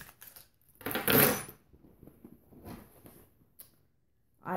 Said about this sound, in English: I have my car keys.